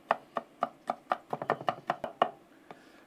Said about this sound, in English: Just come in here and just chop everything up.